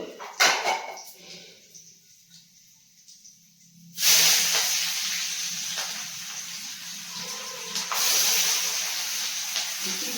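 Onions tipped into a hot pan burst into a loud, sudden sizzle that holds steady and hissing for several seconds, after a quieter stretch of faint kitchen sounds.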